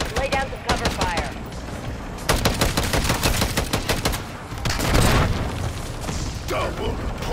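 Automatic cover fire in a Call of Duty match, with dense bursts of rapid gunshots rattling close and loud in several clustered volleys, mixed with mechanical clanks and booms. Voices are mixed in.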